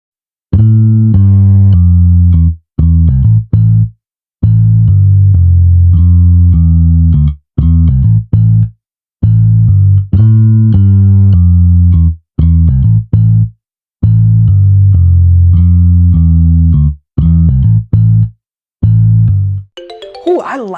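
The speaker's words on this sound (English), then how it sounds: "So listen to this pattern on the bass guitar." Solo bass guitar plays a repeating groove of low, sustained notes in short phrases separated by brief gaps, loud and clear with no other instruments.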